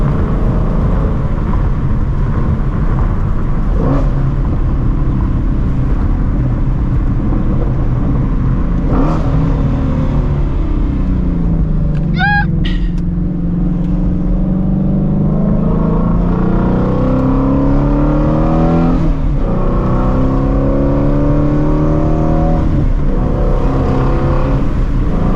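A Shelby GT350 pulls hard through several no-lift upshifts, its engine loud and continuous, climbing in pitch with each gear and dipping sharply at the shifts, with no talk over it.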